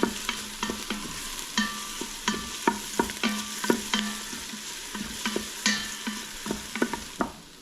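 Ingredients for one-pot pasta with garlic being stirred in an Instant Pot, a repeated scraping and knocking of a utensil against the pot in an irregular rhythm over a faint sizzle, with no talking.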